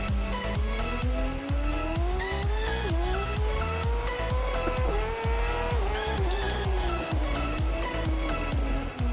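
Cars race laps at Brno in a racing video game, their engines droning loud and continuous as the revs climb and drop through gear changes over a constant thumping beat.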